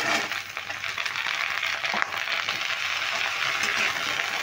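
Sliced pointed gourd stirred and fried in a hot pan: a steady, close sizzle and hiss with faint scraping and clinks.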